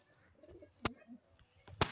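Pigeons in a home loft give soft, low cooing murmurs, faint and close by, broken by two sharp louder knocks or flaps.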